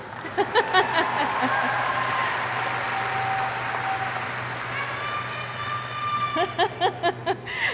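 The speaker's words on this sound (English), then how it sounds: "Yes, you can applaud." Steady, full audience applause fills the hall at the Thomas Edison State University 2019 commencement ceremony, with a speaker's voice heard briefly at the start and again as the clapping fades.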